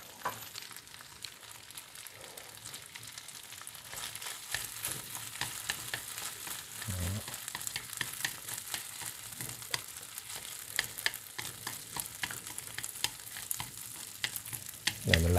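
Egg fried rice sizzling and frying in a pan while being stirred, a steady crackle with scraping stir strokes and occasional clatters, moderately close and growing busier toward the end, with no talking.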